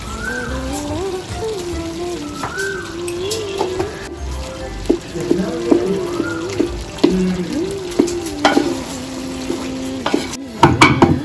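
Pork cooking in ghee with ground pepper, stirred with a utensil: a continuous close sizzle broken by repeated scraping and clinking strokes against the pan, growing busier toward the end.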